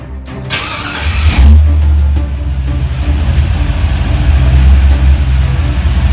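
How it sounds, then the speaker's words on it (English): A Buick Regal engine cranks with a brief whine, then catches into a deep, throaty rumble that revs and holds loud and close. "That sounds nice and throaty."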